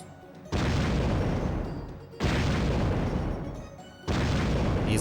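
Three loud bursts of bomb explosions in the arcade shooter Dynamite Deka 2, each a broad roaring blast that holds for over a second before slowly fading, with no talk over them.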